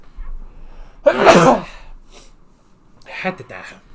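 A single sharp sneeze bursts out close to the mic, followed by a short pause and a softer breathy snort or sniff.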